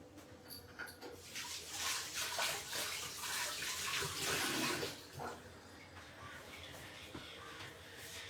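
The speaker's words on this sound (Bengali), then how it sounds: "তার আগে আমি হাতটা ধুয়ে নিচ্ছি।" Tap water runs steadily as hands are washed in a home kitchen while cooking paneer kofta curry, a continuous close splashing hiss that swells in the middle and then settles to a softer flow.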